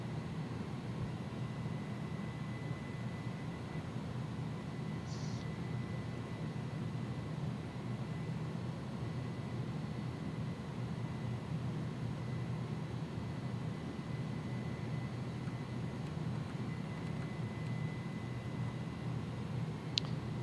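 Steady in-flight cabin drone of an A300 aircraft in X-Plane 11, a constant broadband rumble and hiss at even loudness, with a faint chime near the start and another at the end.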